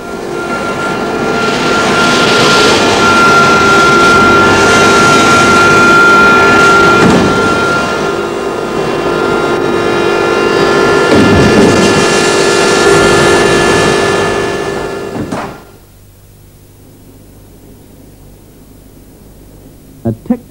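A fighter aircraft roars with loud, broad jet engine noise and a steady whine for about fifteen seconds, then cuts off sharply, leaving near silence broken by a couple of faint clicks.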